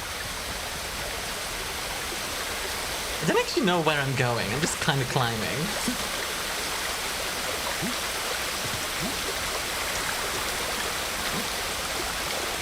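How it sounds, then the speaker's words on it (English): Loud rushing water from a stream or waterfall in the video game Fold This Sword Ten Thousand Times roars steadily throughout, while someone briefly talks over it. "this is loud water. This is some loud ass water."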